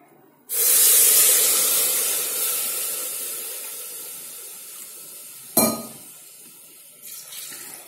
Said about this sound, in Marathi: आता याच्यामध्ये आपण पाणी टाकून घेऊया.